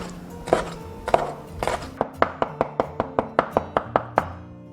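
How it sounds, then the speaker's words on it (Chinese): A knife chops squid into strips on a cutting board in a home kitchen, striking in a steady run of about a dozen crisp, close knocks after a few slower, heavier cuts. "先把墨鱼切条"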